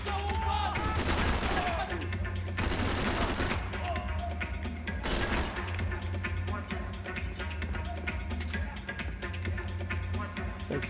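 Gunfire in Max Payne 3, with a dense, sustained fusillade of shots running through the whole stretch over a thick, loud game soundtrack and ambience, with no pause in the shooting.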